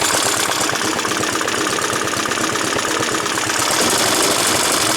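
An old Suffolk reel mower's 2-stroke engine runs steadily, a close, loud, continuous putter with a fast knocking pulse and no pauses.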